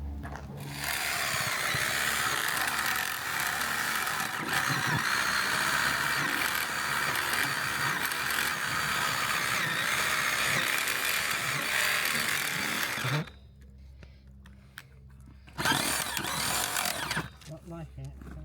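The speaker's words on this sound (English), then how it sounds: "he's onto the core drill now, which is slowly working its way through the wall." A core drill grinds slowly through a wall during renovation work at an old rectory. It makes a loud, continuous rough whir that cuts out near the end, pauses briefly, then starts again.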